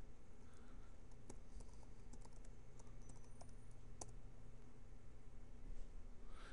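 Someone types a command on a computer keyboard while configuring a BIND DNS server on CentOS Linux, with quick, soft keystrokes and occasional sharper taps over a steady background hiss.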